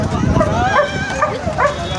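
A pit bull lets out a few quick, high, yelping barks close by, mixed with voices talking over it.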